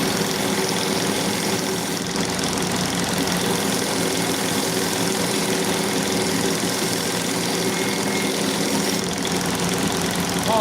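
Belt grinder running a Scotch-Brite belt to clean scale off a blade, a loud, continuous motor drone with a steady grinding rasp and no break.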